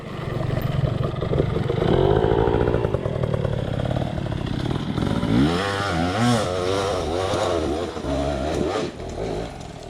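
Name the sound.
Sur Ron Ultra Bee electric dirt bike riding off-road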